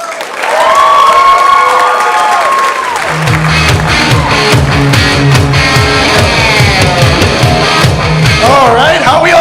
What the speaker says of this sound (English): I hope you guys cheer until you pass out for Mr. Peter J. coming to the stage next